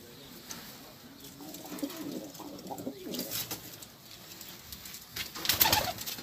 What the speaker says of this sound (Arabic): هذا هني طيور.